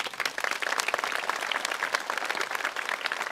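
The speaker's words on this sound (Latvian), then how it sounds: "Aplaus viņiem!" Applause from a conference audience at an opening session, a dense, steady clapping from many hands that fills the room and carries on evenly with no voices over it.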